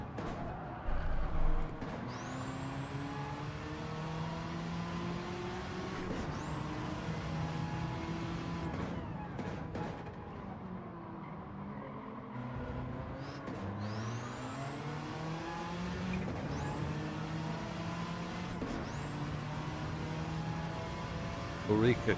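Porsche GT engine in a racing video game, a sustained high revving whine with repeated upward pitch sweeps as the car accelerates through gears, steady and prominent throughout, with a brief thump near the start.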